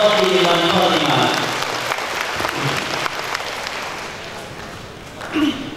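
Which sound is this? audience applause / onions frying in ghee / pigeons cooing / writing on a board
audience applause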